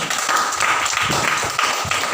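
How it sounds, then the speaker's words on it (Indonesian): A church congregation at a sermon on the shepherds of Jesus' birth gives a short, steady round of clapping, dense and close throughout. "Tepuk tangan yang meriah begitu"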